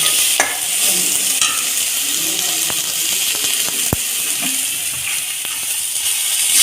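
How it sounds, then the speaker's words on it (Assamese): Ground spices (cumin, coriander, turmeric and garam masala) fry in a hot pan with a steady sizzle, while a spatula scrapes and taps in irregular close clicks, continuing without a break. "তাৰপাছতে আমি ভালকৈ গুড়িখিনি মিক্স হোৱালৈকে ভাজি ল'ম।"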